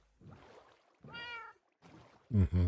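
A cat in the Minecraft video game meows four times during a boat ride, short separate calls with gaps between them, the last one loudest and closest.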